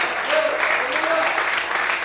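A church congregation claps together during a sermon, with a dense, steady burst of applause close by and a few faint voices underneath.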